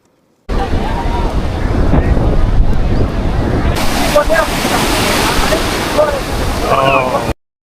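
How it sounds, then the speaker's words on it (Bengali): Ocean surf and gusting wind on Cox's Bazar beach in Bangladesh, a steady loud roar of breaking waves with wind buffeting the microphone throughout, without talk. "সমুদ্রের নীল জল, খোলা আকাশ আর ঢেউয়ের শব্দ"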